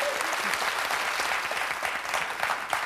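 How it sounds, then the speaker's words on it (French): A studio audience on a French-language TV quiz show claps steadily, a full, continuous round of applause at moderate volume with no break. "Regardez les applaudissements de tout le monde."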